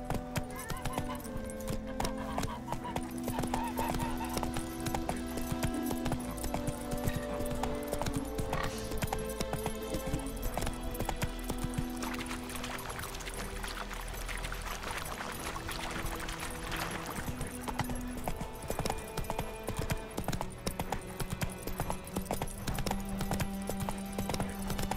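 Horse hooves gallop in a steady, rapid clip-clop rhythm through The Witcher 3: Wild Hunt, loud and continuous over layered game music for the whole stretch, with no talking heard.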